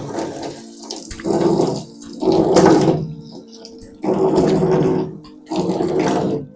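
Cold tap water runs in a sink while a face is being washed, coming in four separate gushing bursts with short quieter gaps between them, close and fairly loud with no talking.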